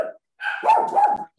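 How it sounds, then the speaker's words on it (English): A dog barks nearby during an interview: a short yip comes first, then after a pause a louder, drawn-out two-part bark, close and clear. "Somebody's dog."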